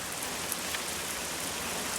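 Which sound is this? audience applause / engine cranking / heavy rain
heavy rain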